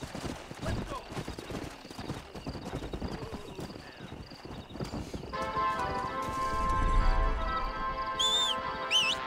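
Horse hooves clip-clop in the Red Dead Redemption video game, a rhythmic gallop that grows louder midway, with a whinny and bird chirps near the end and voices talking over it.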